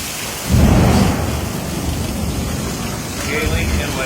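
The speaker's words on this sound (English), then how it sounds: "Hailing and lightning." Storm with thunder and heavy rain during a Florida tornado event, a deep rumbling thunder swell rising near the start and easing off under steady rain noise, with a second faint rumble near the end.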